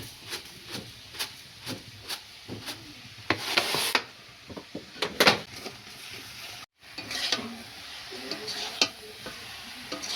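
Tamarind pickle with water, sugar and jaggery is stirred in a pan over the heat, heard as repeated close rubbing and scraping strokes with a soft sizzle underneath and a short break partway through.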